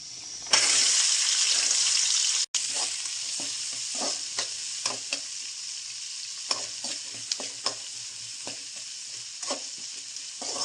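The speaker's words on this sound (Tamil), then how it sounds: "ரெட்டிஷ் வர வரைக்கும் நல்லா வெங்காயத்தை வறுத்துக்கோங்க" Small onions (shallots) frying in oil in a pan for a sardine curry, with a steady loud sizzle, a brief dropout near the start, and repeated stirring scrapes and clinks throughout; no talking.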